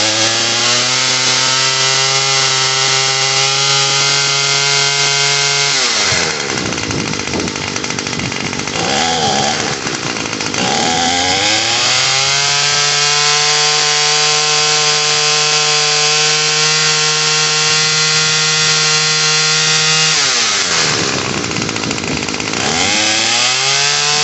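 A Bolens BL160 string trimmer's small two-stroke engine runs loud and close at full throttle after a carburetor repair, with a buzzing whine that dips and surges twice before settling back to a high steady pitch.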